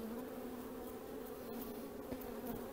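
Honeybees swarming around an open hive frame with capped brood, a steady close droning buzz with a clear low hum and faint rustles throughout.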